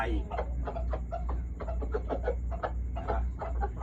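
Chickens on a Thai home farm cluck in short repeated bursts close by, a busy irregular pecking-order chatter over a low steady hum, with people's voices mixed in.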